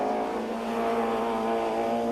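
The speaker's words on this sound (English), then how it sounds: "BMW sounding crisp" A 1993 BTCC BMW touring car engine at racing speed on the circuit, a steady crisp high-revving drone holding a strong pitch, loud and continuous without any voices.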